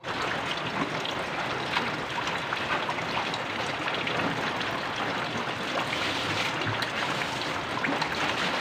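Dense, steady rainfall hisses continuously, a heavy downpour on an island pattering on surfaces with no voices.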